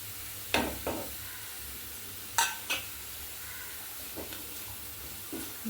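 Spiced vegetable curry of Mysore spinach stirred in a pan with turmeric and chili powder, a few soft scraping clinks of the spoon over a faint sizzle, quiet otherwise.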